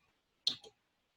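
A single computer mouse click selecting a country on a web page, a crisp, close double tick that is brief and quiet against near silence.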